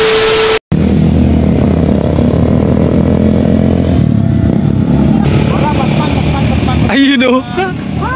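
A Kawasaki Vulcan Custom 900 motorcycle engine runs loudly and steadily, a close, continuous mid-pitched drone with slight revving; speech overlaps near the start and end.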